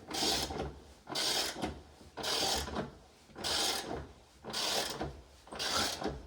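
A ratchet clicks in repeated bursts, about six even strokes of rasping mechanical clatter with brief pauses between, close and fairly quiet, tightening rear suspension bolts on a Toyota Celica GT-Four.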